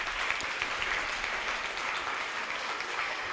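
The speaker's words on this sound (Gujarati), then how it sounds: "બધા માટે જોરદાર તાળી" An audience applauds at a school Ramayana quiz for students of standards 6 to 8, giving a steady, even wash of many hands clapping at moderate volume, with no voices over it.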